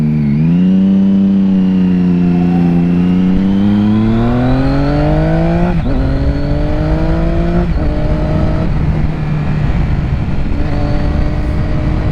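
A sport motorcycle engine, a 2006 Triumph Daytona 675 or 2007 Yamaha YZF R6, revs loud and close on a downhill ride, pitch climbing and falling through blips and gear changes under steady wind roar.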